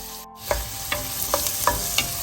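Onion, green chili and garlic-ginger sauté in a pan for millet fried rice, giving a steady soft sizzle with about five crisp spatula scrapes and stirs at a regular pace, close by, with no talking.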